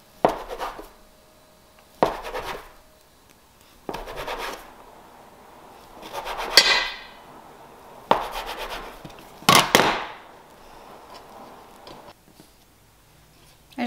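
A bench scraper pushes cinnamon roll dough together on a work surface: about six short scraping strokes, roughly two seconds apart, close and fairly quiet, with brief silences between them.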